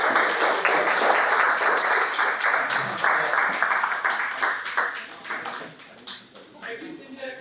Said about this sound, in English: Maybe we can clap.